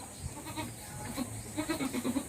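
Goats in a wooden goat house bleat faintly through steady background noise with a few short, wavering calls.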